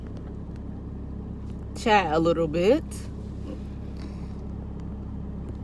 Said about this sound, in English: I'm waiting for my car to heat up